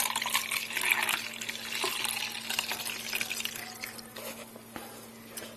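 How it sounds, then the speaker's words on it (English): Water pours steadily into the reservoir of an Elite Gourmet EC812 electric 12-cup coffee percolator, a close splashing trickle that thins out toward the end. "Now we pour the water."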